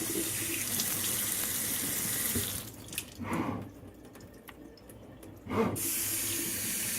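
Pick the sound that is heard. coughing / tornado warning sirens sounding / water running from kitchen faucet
water running from kitchen faucet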